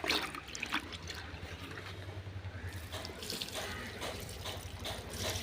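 Liquid pours and splashes steadily onto compost made with an inoculum, a close, continuous watery rush that tapers into trickles and drips.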